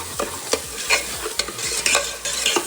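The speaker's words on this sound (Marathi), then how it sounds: "आपण याला चांगला परतून घेतो व्यवस्थित" Ground black masala for mutton being sautéed in a pan, with a spoon scraping and stirring in repeated strokes over a steady close sizzle.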